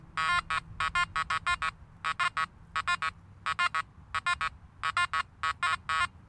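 A metal detector, a Makro Gold Kruzer, sounds quick clusters of bright electronic beeps in a stuttering, broken rhythm as it passes over nails on a board, the signal clear and close against a quiet background.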